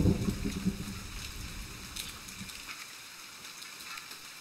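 Rain falls steadily in The Forest video game, a soft continuous patter across the surroundings that is fuller at first and then thins to a quieter hiss, with no voices.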